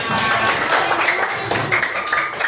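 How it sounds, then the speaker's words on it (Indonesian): A class of students gives group applause, with loud, continuous clapping close by and voices faintly mixed in underneath. "terima kasih tepuk tangan buat kita semua"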